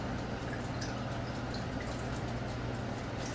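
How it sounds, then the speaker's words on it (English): Low sodium chicken broth is poured into a soup pot for pea soup with ginger, giving a steady, continuous liquid splashing and trickling sound that runs unbroken throughout, with no talk. "we'll go ahead and add 2 cups of low sodium chicken broth"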